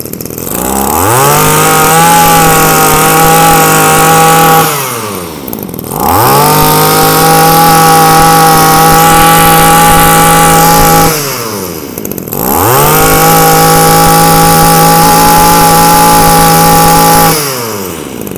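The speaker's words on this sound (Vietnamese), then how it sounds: "Em sẽ giật nổ để các bác nghe thử con số K5 này, có trợ lực các bác nhé, cực kỳ nhẹ." A Japanese K5 brush cutter's small petrol engine, with power-assisted starting, roars loud and close in three long revving bursts, each dropping briefly toward idle between them.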